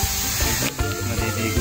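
A water sprinkler sprays over grass in an animal enclosure, a steady broadband hissing rush with a few soft low thumps, close and continuous throughout.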